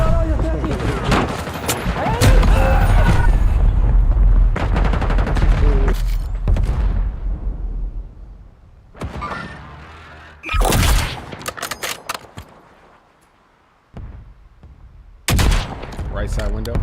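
Bursts of gunfire in a video game firefight, with loud rapid volleys and single shots that come in clusters separated by quieter gaps, close and harsh, while players call out to each other over the shooting.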